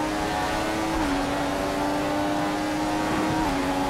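A Formula One race car engine in the F1 17 video game drones loud and steady at high revs, with brief pitch dips at gear shifts, alone without talk.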